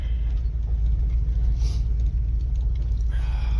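A Pontiac car engine idles steadily with a deep, continuous low rumble that holds even and loud throughout, with no speech.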